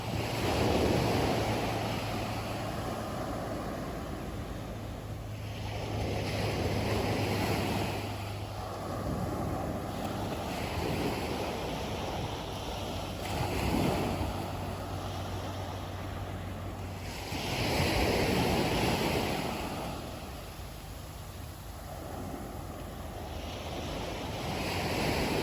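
Ocean waves wash onto a Florida beach in a steady surf roar that swells and recedes in slow, rhythmic surges, with some wind buffeting the microphone and no voices.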